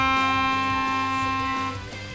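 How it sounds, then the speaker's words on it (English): A melodica sustains middle C as one steady reedy tone, close and clear, easing off slightly toward the end. No one talks over it. "So, middle C, which I have a picture of, sounds like this."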